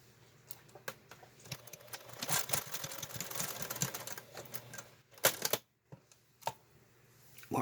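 A sewing machine stitches side seams on a small fabric tissue case for a purse, running in a few uneven bursts with clicks and pauses between, close and moderately quiet.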